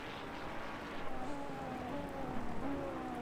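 Steady rain hiss falling across a wet racing circuit at the Nürburgring in a racing video game, a continuous broadband wash with a faint engine drone underneath and no talking.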